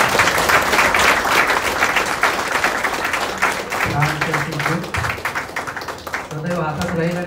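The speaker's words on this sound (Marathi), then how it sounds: "जोरदार टाळ्या होतात." Applause from a gathered department at a farewell ceremony, with sustained clapping running throughout and speech and voices mixed in over it.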